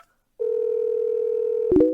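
A steady telephone dial tone hums alone for over a second before a short clicking burst as a call is placed to a company vice president's phone.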